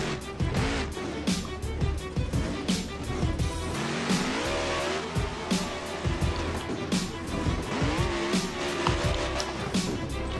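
A monster truck in BeamNG Drive attempts a stoppy at a Monster Jam freestyle event, its engine revving and surging with tire squeals and roaring crowd-like wash, loud and busy with a commentator's voice over the action.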